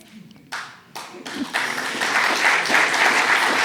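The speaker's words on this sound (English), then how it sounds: "Thank you for the applause, because I needed to." Lecture audience at the Frank K. Kelly Lecture on Humanity's Future breaks into applause, starting with a few scattered claps that quickly swell into loud, full clapping.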